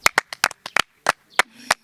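Nine or ten sharp, separate hand claps from people nearby, in an uneven rhythm, with short quiet gaps between them and no steady applause.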